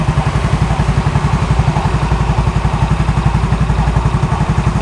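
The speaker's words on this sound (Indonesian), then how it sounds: "Kita dengerin dulu suara langsamnya kayak gimana." A used motor scooter idles close to its exhaust, a loud, steady engine putter with a fast, even low thump and a slight mechanical clatter, running continuously without speech.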